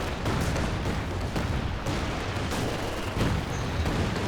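Land Mattress rocket barrage and rifle grenade fire in a Company of Heroes 2 4v4 battle: a steady roar of distant blasts and thudding impacts rolls on continuously at moderate level, with no voices.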